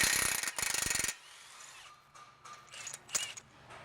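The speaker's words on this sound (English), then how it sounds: "Next step was we're gonna take off this axle nut." Ratchet wrench loosening a 36 mm axle nut on a 2021 Ford Bronco: a loud burst of rapid ratcheting clicks, then quieter scattered clanks and tool handling nearby.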